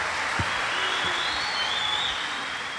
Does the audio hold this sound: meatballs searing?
no